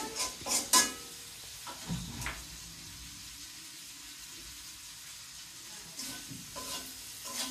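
Spices being sautéed and stirred in a pan on a home stove, with a few clinks of a spoon against the pan early on, then a steady low sizzle and occasional scraping, with no talking.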